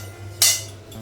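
A pot of cooked rice being lifted off the stove at home, a single short metallic clink of the pot amid a quiet room.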